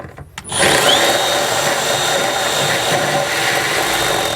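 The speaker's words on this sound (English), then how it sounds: "So I'm going to take a grinder and just kind of notch this out just a little bit so our cord can get through a little bit easier." An angle grinder notches a plastic part to let an extension cord pass through. After a brief quiet start it spins up into a loud, steady whine with a high grinding edge that holds for about four seconds.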